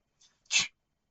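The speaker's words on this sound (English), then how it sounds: "Somebody sneezes, you say bless you, they say thank you." A single sharp sneeze, close and fairly loud, preceded by a faint quick inhale; otherwise quiet.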